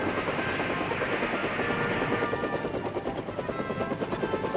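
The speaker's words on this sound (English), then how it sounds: "A fast helicopter gunship for close-in fire support." An Army helicopter gunship flying close by, its rotor thumping in a fast, steady pulse over a loud engine roar, continuous throughout with no voices.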